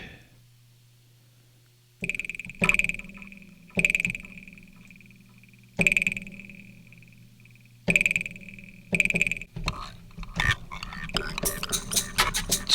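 Punchy drum and bass hits run through a delay with feedback, each strike leaving a repeating ringing echo tail, building into a dense, rapid stutter of repeats toward the end.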